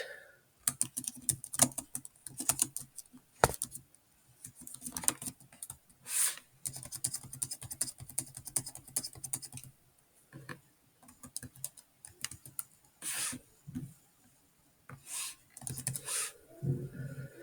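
Card details being typed on a computer keyboard during an online membership registration, with steady runs of close key clicks broken by short pauses and occasional louder keystrokes, no talking.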